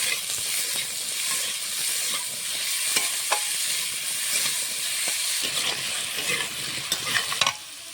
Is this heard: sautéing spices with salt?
yes